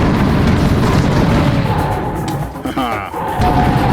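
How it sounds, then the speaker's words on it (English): Dual pistols fire repeatedly in Serious Sam VR, loud booming shots and impacts packed densely together, up close, with a person talking over the barrage. "Dual pistols. Here we go."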